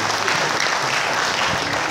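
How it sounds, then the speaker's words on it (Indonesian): An audience at a live religious gathering in Ponorogo breaks into dense, continuous applause, loud and close, filling the short stretch without a pause. "Tepuk tangannya."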